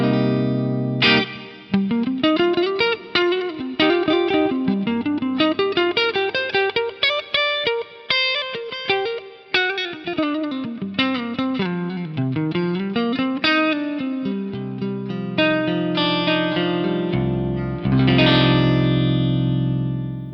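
Clean electric guitar through an Axe-Fx III ODS 100 clean amp model with a cab IR, tapped neck pickup, playing a melodic line with sustained notes and soft reverb, loud and continuous, with a brief pause and a strummed chord near the end.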